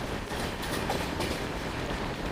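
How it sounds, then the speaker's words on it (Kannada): KSR Bengaluru–Hubballi overnight superfast express passing at speed without stopping at a small station: a steady, fairly faint wash of rolling rail noise with soft clattering, no talk. "ಇವಾಗ KSR ಬೆಂಗಳೂರಿಂದ ಹುಬ್ಳಿಗೆ ಹೋಗೋ ಸೂಪರ್ ಫಾಸ್ಟ್ ಎಕ್ಸ್ಪ್ರೆಸ್ಸು"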